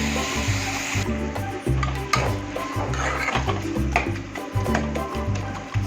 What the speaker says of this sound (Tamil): இந்த தக்காளி நல்லா வதங்கணும் வதங்குற வரைக்கும் நம்ம நல்லா ஃப்ரை பண்ணி எடுத்துக்கலாம்